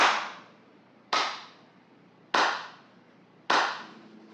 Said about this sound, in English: Those claps were sarcastic.